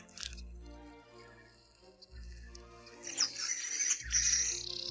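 Weaver birds chirp around their high nests in the African bush: scattered high tweets and calls that thicken toward the end, over low steady background rumble.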